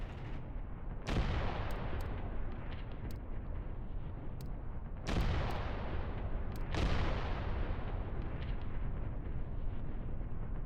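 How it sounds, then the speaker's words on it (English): Gunfire in the war game Mius Front, including machine guns: three heavy booming blasts with sharp scattered shots between them, all at a distance over a steady battle rumble. "MGs are working nicely."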